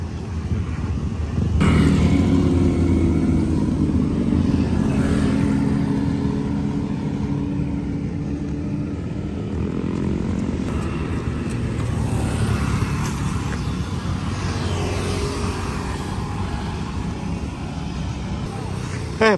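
Vehicles rolling into a parking area, a steady engine rumble that swells and fades, heard at moderate distance with people talking over it.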